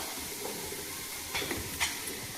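Onions frying in a pan for egg biryani, a steady soft sizzle and hiss at moderate distance with a couple of brief scraping stirs near the end.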